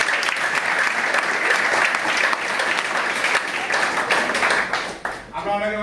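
An audience at a Vestige marketing plan discussion gives loud, sustained applause from many hands, with voices mixed in. The clapping thins and drops away near the end.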